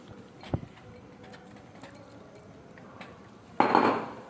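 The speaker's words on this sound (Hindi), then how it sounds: "इसी के साथ अब मैं इसके अंदर पास्ता डाल दूँगी।" Pasta tipped into a pan of white sauce with grated cheddar, heard as a sharp clatter early on, then a louder, sustained rush of pasta and sauce landing near the end.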